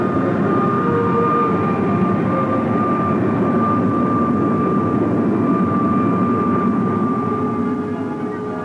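The jet engine of an Avro Arrow interceptor at an airfield, a loud, steady roar with a sustained whine that holds constant throughout, with no voices.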